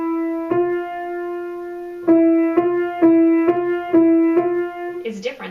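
Piano notes of a pentascale sound one at a time, first a single held note and then a steady run of repeated struck tones, clear and close, with a brief murmur of voice at the very end.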